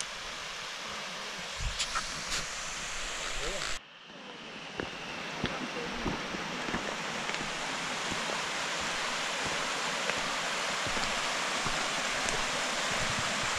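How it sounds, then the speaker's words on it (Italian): A small mountain stream flows with a steady, broadband rushing of water, loud and close, continuing without a break apart from a brief shift in level partway through. "Eccoci arrivati al torrentello dove andrò a rifornirmi di acqua."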